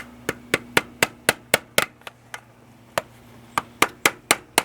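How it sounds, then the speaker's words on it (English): A rubber mallet taps the valve cover of a Nissan 300ZX Twin Turbo in about fourteen sharp, evenly spaced knocks, with a short pause midway, over a low steady hum. "Tapping it with the rubber mallet."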